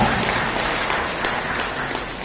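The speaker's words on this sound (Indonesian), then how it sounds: "Tepuk tangan untuk orang Batak." Audience applause at a Batak community gathering, a steady dense wash of clapping held at even loudness for about two seconds with no speech over it.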